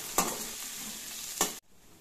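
Chopped onion fries with garlic, ginger and green chili in a pan, giving a steady close sizzle. Two sharp scrapes of stirring break through before the sound cuts off abruptly near the end.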